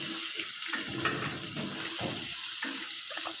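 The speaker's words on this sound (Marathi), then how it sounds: "आणि त्याच्यावर लगेचच कांदा टाकून घ्यायचा" Chopped onion drops into hot garlic-infused oil while cooking a Bombil fish curry, giving a sustained hissing sizzle with short bursts of crackle, close by and with no voices.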